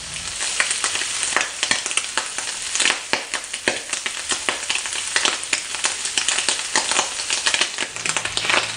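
Strips of bacon sizzle and crackle loudly in a pan for breakfast, a dense steady frying hiss with frequent sharp pops throughout, close and continuous with no talking.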